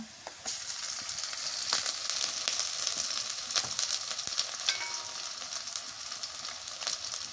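Garlic, ginger and cumin paste frying in a pan for a chitol fish dish: a steady close hiss and sizzle with scattered soft stirring ticks throughout, no one speaking.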